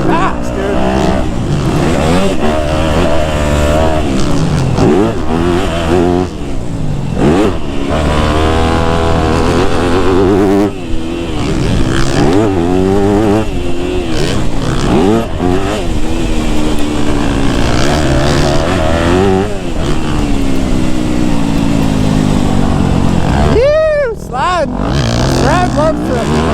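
Yamaha YZ250F and Kawasaki KX250F four-stroke dirt bikes riding a motocross track, a loud close engine revving up and down continuously through gear changes, with a rider talking over it.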